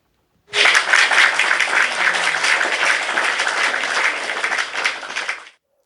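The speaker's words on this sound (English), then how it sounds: "Shall I come and give a clap?" A burst of clapping from a small group starts abruptly, holds steady and dense for about five seconds, then stops cleanly.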